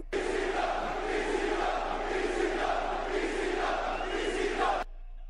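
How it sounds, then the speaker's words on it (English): A wrestling crowd at an AEW versus ROH Collision show roars loudly and without a break in a dense, sustained wall of cheering, which cuts off abruptly near the end. "Well, the crowd woke up."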